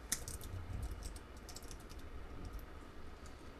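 Keystrokes clatter on a computer keyboard while someone types an SQL query, a quick run of light clicks near and alone, with no talking.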